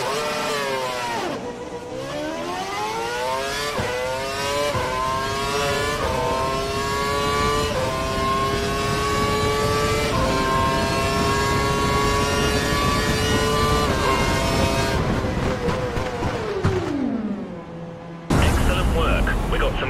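A high-pitched Formula One car engine in the video game F1 2012, running a lean mix, revs and accelerates continuously, pitch climbing through gear changes, loud and close, ending with a sharp downshift.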